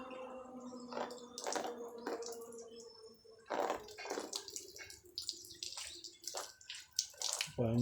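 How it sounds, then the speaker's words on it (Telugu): Water is poured over raw mutton while its back side is rinsed by hand, giving close splashes and trickles in uneven bursts with short gaps, ending in a sharper wet slap. "మళ్ళీ నీళ్ళు పోసుకోవాలి ఫ్రెండ్స్ బ్యాక్ సైడ్."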